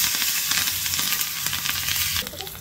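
Curry leaves, dried red chillies, cumin, mustard seeds, asafoetida and turmeric sizzle in hot tempering oil for pepper rasam, a loud close crackling fry with spitting pops that eases slightly near the end.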